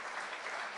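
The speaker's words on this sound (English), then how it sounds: "if we could just have another round of applause for these wonderful musicians of the Tulsa Symphony" Audience applause for Tulsa Symphony musicians, a brief, steady wash of many hands clapping at once, moderately loud and with no talk over it.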